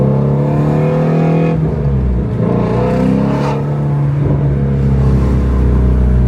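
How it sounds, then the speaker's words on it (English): A loud, deep Ford Mustang Shelby GT350R exhaust rumbles and revs up close, rising and falling in pitch with throaty bursts of acceleration. "You gotta hear this exhaust."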